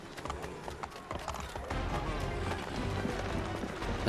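Horse hooves in Assassin's Creed III clatter in a fast, running rhythm close by, mixed with dense game ambience and bustle.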